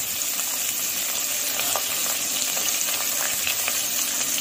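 Vegetables and quartered mushrooms sautéing in a pan for sole bonne femme, a steady loud sizzle and crackle with faint stirring, no talk over it.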